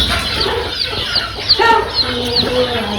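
Native hens cluck intermittently in a farmyard setting where eggs are being set for incubation, short bright calls repeating over a steady background hum, fairly near and without speech.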